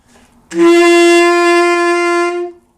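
A single sustained tenor saxophone note, G, full and steady, held for about two seconds on its own before stopping.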